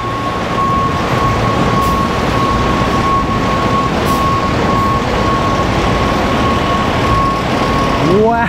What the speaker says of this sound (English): we're bringing in this Residential Refuse and Recycling of Texas truck right here